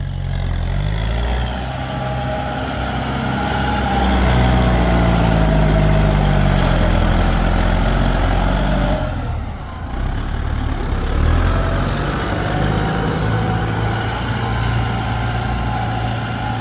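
A Kubota M108S tractor's heavy diesel engine rumbles loudly and continuously up close while pushing clay soil, its pitch shifting as it revs and labors, with a brief dip midway.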